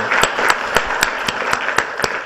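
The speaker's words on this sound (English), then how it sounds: "if you can give a round of applause to Silicon Planet Insider" Applause at a tech policy welcome session, a steady wash of clapping with sharper individual claps recurring at regular intervals, fairly loud and moderate in size.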